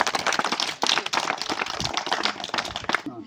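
Audience clapping at a village primary school farewell for a departing teacher, a dense, busy patter of many hands, fairly close, continuing steadily before cutting off abruptly at the end.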